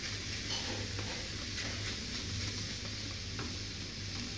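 Okra, onion and tomato sautéing in an open pan over a medium flame, a soft continuous sizzle with faint stirring scrapes, steady and close, with no talking.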